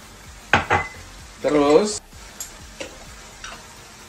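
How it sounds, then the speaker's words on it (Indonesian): Spices, including Arabic allspice and Arabic seven spice, are stirred into goat soup in a pot, giving a few soft scrapes and then a sustained sizzling, scraping burst, with a short spoken word in between. "Nah, ini kita aduk lagi sampai dia rata"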